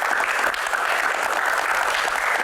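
A crowd at a live Q&A show claps in a dense, steady burst of applause that fills the whole clip, loud and close, with no talking.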